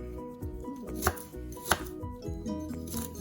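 Vegetables being roughly diced with a knife on a board for a vegetarian chili: close, quick chopping taps with a couple of louder thuds, over a faint tonal background.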